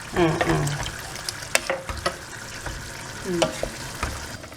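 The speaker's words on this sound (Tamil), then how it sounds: "இப்போ வந்து இந்த டைல்யூட் தேங்காய் பாலை ஊற்றி வேகட்டும்." Chicken stew with diluted coconut milk just added, bubbling and sizzling in the pot while a spoon stirs and scrapes, with a few soft clinks and a brief voice near the start.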